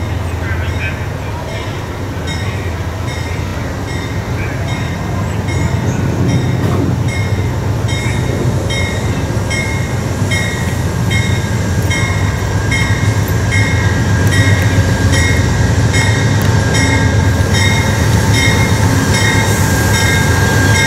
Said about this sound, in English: Here comes Amtrak